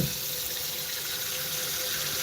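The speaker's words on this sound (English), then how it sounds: "we take this bowl and we get some water" Water running from a tap into a bowl in a kitchen sink, a steady close hiss and splash with a faint rising fill tone, continuous and alone.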